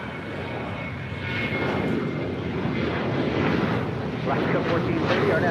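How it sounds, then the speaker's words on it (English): A United Boeing 737-800 airliner roars on takeoff at LAX, a broad jet rumble swelling louder and holding steady in the distance, with voices talking underneath. "This is United 1217 taking off to Las Vegas on a 737-800"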